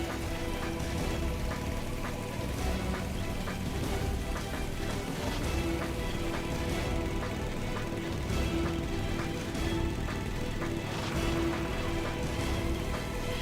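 Steady game rain in Metal Gear Solid 3 hisses and patters on surfaces, a continuous dense wash with faint drops and low rumble underneath, no voices.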